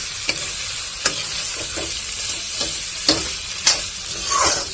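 Duck meat with salt and turmeric fries in a pan, a continuous close sizzle broken by several distinct stirring scrapes and clacks of the spatula.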